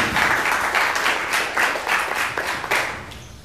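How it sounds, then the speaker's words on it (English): A lecture-hall audience at a mobile software engineering class claps for a guest speaker, a short burst of applause from a modest crowd with individual claps distinct and pulsing before fading out. "round of applause for Glenn Gordon"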